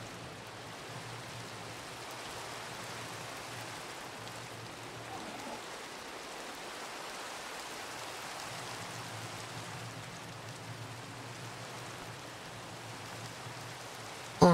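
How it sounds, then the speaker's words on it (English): Steady rain falling outside, a constant soft hiss of drops with a low hum underneath, unbroken and even for the whole stretch with no voices. "I'll do this when it stops raining out."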